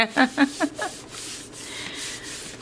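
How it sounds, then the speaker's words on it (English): Paper rubbed by hand to spread wet paint beneath it for a greeting card background, giving several short scuffing strokes up front, then a softer continuous rubbing, close and moderately loud with no talk. "We're going to rub this. We're going to spread that paint around. And we're going to rub it."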